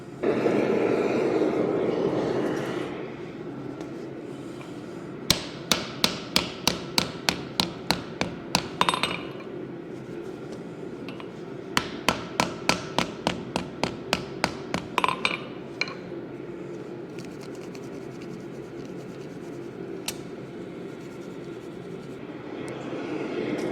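Two pieces of wrought iron for a traditional folded American felling axe are hammered together before a forge weld. Two quick runs of bright, evenly spaced metallic taps ring out close and loud over a steady forge roar.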